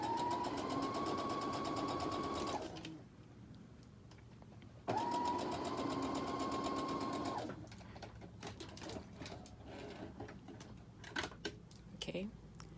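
A sewing machine stitches a fabric seam in two steady whirring runs of a few seconds each, separated by quieter handling noises that follow at the end.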